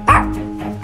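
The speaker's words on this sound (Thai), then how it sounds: "จะเห่าอะไรนักหนาเนี่ย" A single sharp bark from a dog, loud and close, followed by a short softer yip in an indoor family scene.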